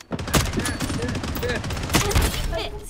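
Gunfire in the BloodStrike shooter game, with several sharp, loud shot transients and repeated bursts against dense game noise and players talking over it.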